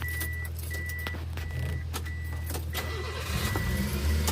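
A Japanese kei car with automatic transmission is started with a key; keys jangle and clicks sound before the small engine catches and settles into a steady idle, close and loud.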